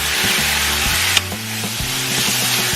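Thin strips of beef hiss loudly in a hot pan while a spatula scrapes and stirs them in short, uneven strokes, with one sharp knock partway through.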